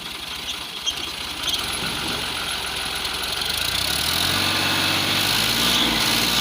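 A tractor engine idles on a farm field, a steady, continuous mechanical drone that holds at an even level and grows slightly fuller toward the end, with no talking.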